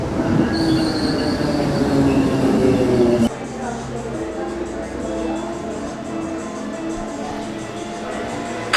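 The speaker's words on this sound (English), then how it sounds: "But now onto the train and into the city." A train in Belfast rumbles along the rails with a high metallic squeal from the wheels, then settles into a steadier, quieter rolling noise.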